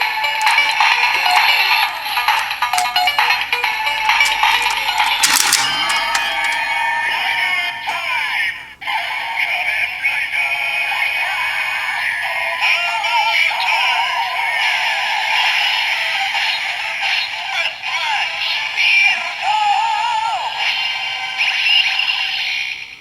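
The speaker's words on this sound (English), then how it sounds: "we'll change the standby sound to this regardless of the light pattern" A shrill, buzzy electronic toy sound from a Kamen Rider Zi-O DX Ride Watch II loops continuously for a long stretch, bright and busy with warbling tones, briefly dipping once midway.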